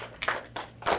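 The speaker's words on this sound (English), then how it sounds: "round of applause" Brief scattered clapping from a classroom audience comes in three short bursts, fairly close and modest in volume, with no voices over it.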